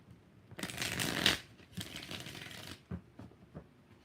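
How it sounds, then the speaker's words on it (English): Tarot cards are shuffled close up in two quick riffling bursts, followed by a few soft taps and card handling sounds in a quiet room. "3 shuffles."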